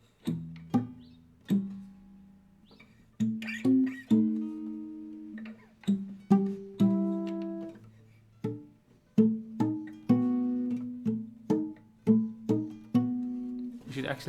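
Acoustic guitar strums the chords of a song alone, with sharp plucked attacks and ringing notes that decay between changes, close and fairly soft throughout.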